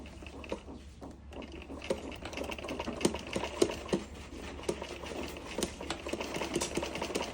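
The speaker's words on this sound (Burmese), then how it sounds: "ဒီကကြီးရပေးထားတဲ့ နေရာလေးကိုဖိပြီးတော့ ချုပ်လိုက်မယ်" A sewing machine stitches the inner zip pocket of a jacket, running in quick, uneven bursts of needle clatter at close range over a steady low motor hum.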